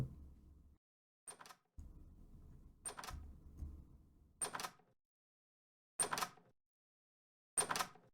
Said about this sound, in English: the doors don't close until we get far away from them